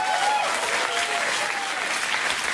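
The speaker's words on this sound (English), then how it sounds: "They give you a round of applause." A television studio audience on a late-night talk show breaks into steady applause, a thick wash of clapping with a voice briefly audible over it.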